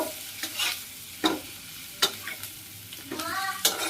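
Onions and chilies fry in a pan while a spatula scrapes and taps against the metal in irregular bursts over a constant close sizzle.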